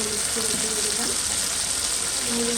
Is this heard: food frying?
yes